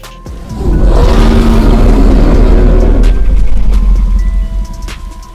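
A dinosaur call effect from a Roblox dinosaur game featuring T. rex, Triceratops and Ornithomimus: a single loud, deep, drawn-out rumbling call of about four seconds that swells and slowly fades, with no voices.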